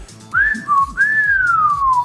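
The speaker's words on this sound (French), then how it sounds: "Tu fais pas de bruit, c'est moi qui siffle." A person whistles two clear, sliding tones, the second held longer and gliding downward, with faint background noise and no talking.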